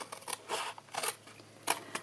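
Scissors cutting through paper along a score line while shaping a box, four crisp snipping bursts in uneven rhythm, close and fairly loud with no talk.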